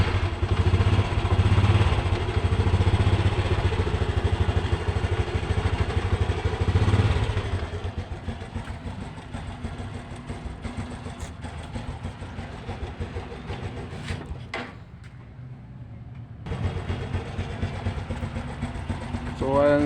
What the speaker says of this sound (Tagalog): So i-start natin guys. Yan, naka-neutral.